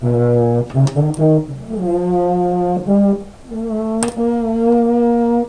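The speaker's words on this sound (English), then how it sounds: "But this is a baritone, and it sounds like this." A baritone (euphonium) brass horn with a stuck valve plays a short run of sustained, mellow notes up close, stepping between pitches with slight breaks between them.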